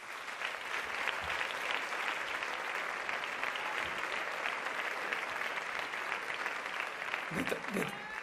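Sustained applause from a theatre audience at the 26th Aragonese Music Awards in Teruel, 2025, honouring local artists; dense, even clapping fills the whole stretch without pause.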